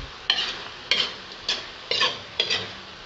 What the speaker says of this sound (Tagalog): Tapos halo-halo natin.